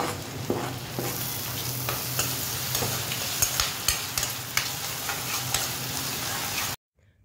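Half a tomato is stirred into frying masala in a pan, giving a loud, steady sizzle with repeated spatula scrapes and knocks, then cutting abruptly to silence near the end.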